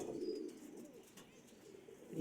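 A pigeon in a loft coos once, low and soft, then a quieter murmur trails off, with a faint voice in the background.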